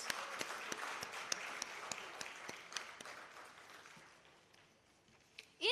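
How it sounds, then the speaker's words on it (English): Conference audience applause at an international students' event, a dense wash of clapping that gradually fades toward the end, heard from within the hall. "please give them another big round of applause"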